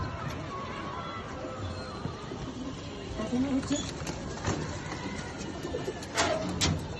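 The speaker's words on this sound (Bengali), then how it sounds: "খুবই সুন্দর টপ কোয়ালিটির একটা রেসার কবুতর" Top-quality racing pigeon cooing in a loft, soft low coos near the mic, heard over a steady background hiss and under talking.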